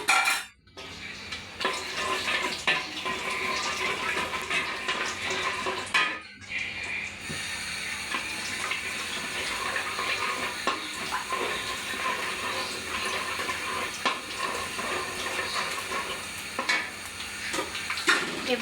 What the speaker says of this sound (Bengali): 3-4টা দারুচিনি, 8 থেকে 10টার মতো আছে এলাচ, আর হচ্ছে 3 থেকে 4টি লবঙ্গ। এটা দিয়ে দিব তেলের মধ্যে।